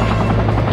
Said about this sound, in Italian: Ti hai premuto tasto per afferrarti all'elicottero della polizia.